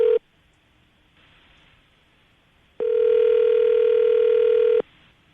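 A steady telephone ringback tone on a dialed call to a woman's number cuts off, and after about two and a half seconds of near silence the same loud tone comes back for two seconds, close and clear, with no talking.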